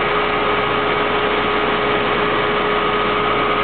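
A brand-new Siemens 6.1 HP 460V three-phase electric motor running in Rotoverter mode gives a loud, constant mechanical hum with a steady whine, unbroken and close throughout.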